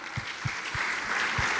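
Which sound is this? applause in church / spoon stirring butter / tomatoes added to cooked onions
applause in church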